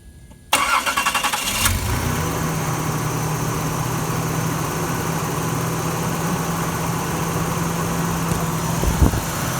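The 1985 Nissan 300ZX's V6 engine cranks briefly, catches and starts, then settles into a smooth, steady idle that carries on close by for the rest of the stretch.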